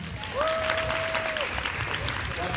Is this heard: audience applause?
yes